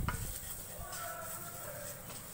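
Coriander powder and spices fry in a pan for a prawns pepper roast, a faint soft sizzle with a stirring scrape at the start and light tonal sounds beneath, no speech.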